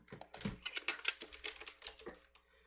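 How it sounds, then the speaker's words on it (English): Loud typing on a computer keyboard, a rapid irregular run of sharp close key clacks with a few heavier strikes, alone without voices. "Sorry for my loud typing"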